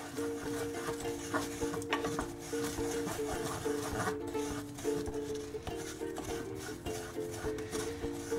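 A half cup of graham cracker crumbles is stirred around in a pan, making a steady, soft scraping and rubbing under a faint hum, continuous and fairly quiet throughout.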